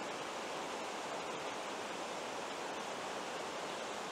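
A river flowing steadily, a dense unbroken rush of water noise with no pauses, even and fairly loud throughout.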